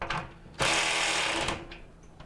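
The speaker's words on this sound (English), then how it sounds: "we're just gonna rotate this drum around and properly torque each vane to make sure they're all nice and tight" A Maytag MDG5500AWW dryer drum is rotated while its drum vanes are torqued tight with a power driver, giving one loud, close burst of about a second of whirring mechanical noise between quieter handling sounds.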